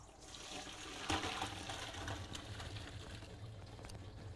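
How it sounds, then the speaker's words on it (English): Blanched Brussels sprouts and their cooking water pour into a colander in a kitchen, making a steady rushing splash with a brief heavier surge near the start and no talking. "we're gonna pour these right in our colander"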